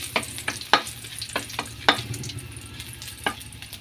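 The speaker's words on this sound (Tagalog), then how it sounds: "igisa muna yung ating sitaw bago natin gataan" String beans sauté with ginger in a hot pan, a soft sizzle broken by sharp, repeated scrapes and knocks of a spatula stirring them.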